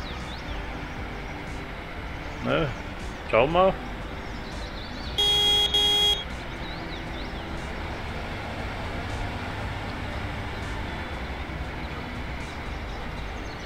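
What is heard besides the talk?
forage harvester driver honking horn in Cattle and Crops video game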